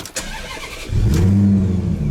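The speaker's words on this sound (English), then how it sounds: "So if I stick the key in the ignition and we'll turn the car on" A Maserati GranTurismo starts with a key in the ignition: a brief starter click and crank, then the engine catches and settles into a loud, steady low idle close by.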